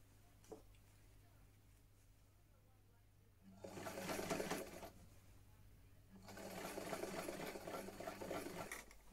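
A vintage sewing machine stitches around the neckline of a Vogue V8811 garment in two short bursts of rapid, even whirring separated by a quiet pause, close but fairly soft over a low background hum.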